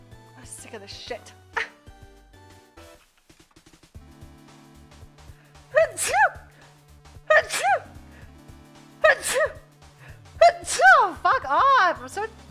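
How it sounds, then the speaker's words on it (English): After some brief muffled sounds, a female streamer breaks into repeated sneezes, around five loud, close bursts spaced a second or so apart, with gasping breaths between them and a final cluster near the end. "I'm so fucking tired of sneezing."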